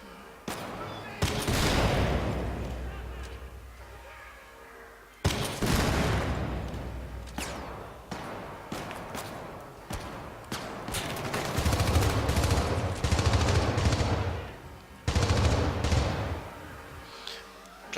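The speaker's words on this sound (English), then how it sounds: "you have a grenade launcher." Gunfire from the video game Syndicate, a grenade launcher and a classic machine gun: dense bursts of shots and heavy blasts, loud and close, with a few abrupt cuts between volleys over about eighteen seconds.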